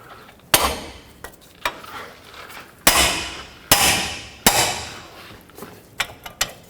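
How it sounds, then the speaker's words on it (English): Several sharp metallic strikes of a hammer on a wrench, loosening a nut on a Honda Fit front control arm, at irregular intervals, loud and close, with a bright ringing decay after each blow and smaller taps between. "I'm going to try to loosen this up with a wrench and a hammer"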